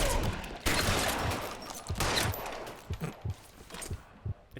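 Gunfire in L.A. Noire rings out as a loud opening volley, followed by several separate shots with pauses between them, each dropping to a lingering tail.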